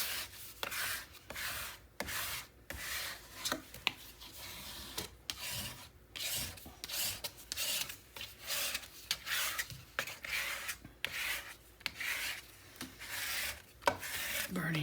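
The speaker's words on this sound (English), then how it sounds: "Burnish that down good so that get the air out and all that good stuff." Tape is burnished down by hand in quick, repeated rubbing strokes, a scratchy rasping rhythm of short bursts with brief gaps, close and fairly loud with no talking.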